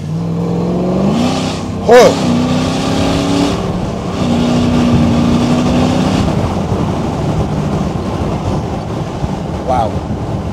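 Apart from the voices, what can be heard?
Land Rover Defender 5.3 litre V8 exhaust growl accelerating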